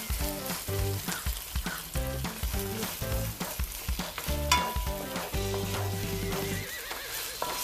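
Ginger and garlic paste sizzling in a pan with onions for a beef and veggie curry, a loud continuous fry broken by rhythmic scraping and clanking of a spoon stirring against the pan.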